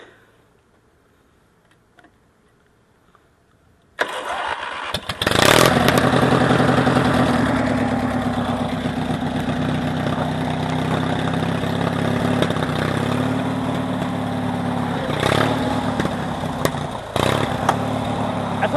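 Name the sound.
modified riding lawn mower engine starting and running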